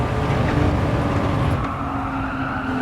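Race car engine roaring under hard throttle in Gran Turismo 7, a loud, steady, close-up drone of engine and road noise that dips slightly partway through as the revs shift.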